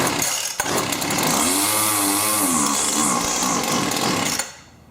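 A gas string trimmer with newly replaced fuel lines, run on full choke, revs hard and steady at wide-open throttle for about four seconds. The engine whine is loud and close, then cuts off abruptly near the end.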